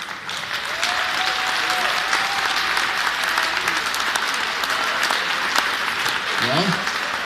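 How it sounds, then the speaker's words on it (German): Sustained applause from an audience at a winners' ceremony of a hill-climb car race in Waldau, steady and broad throughout, with a voice briefly heard near the end. "So, nochmal einen Applaus für zwei."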